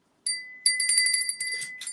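A small bell rings in a rapid, jingling burst, bright and metallic, repeated shakes filling the clip with a short pause.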